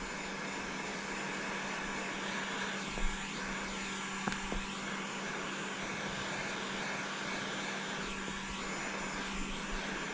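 Heat gun blowing a steady, loud stream of air while shrinking protection film onto a car's exterior windshield, a continuous broadband whoosh with a constant hum and a couple of faint clicks.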